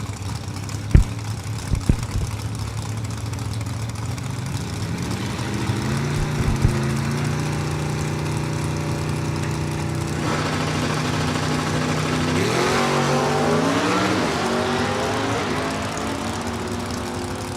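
Drag race cars, including a Pontiac GTO, launch down an eighth-mile strip at a sportsman shootout: loud, continuous engine roar with revs climbing and layering, preceded by a few sharp knocks.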